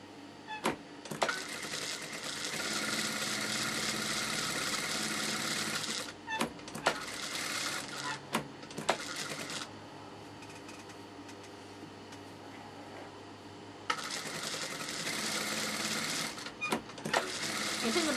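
An industrial sewing machine runs in long steady stretches of rapid mechanical whirring, broken by pauses with clicks and handling noises, with no talking.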